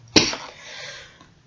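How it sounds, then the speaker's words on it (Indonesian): A single sharp cough rings out close by, followed by a brief fading tail and quiet room tone. "Aduh, batuk."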